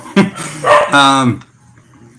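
A dog barks close by, three or four sharp, loud barks in quick succession, followed by near silence and a faint brief noise at the end.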